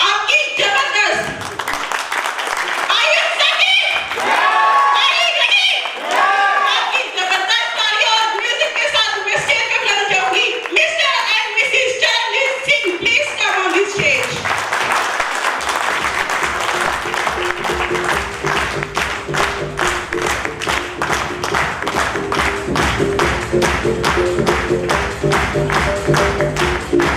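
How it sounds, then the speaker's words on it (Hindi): A seminar audience breaks into applause after a host speaks, many hands clapping in a dense steady patter that continues while a voice carries over it. "सो आपकी जबरदस्त तालियों के साथ, आपकी जबरदस्त"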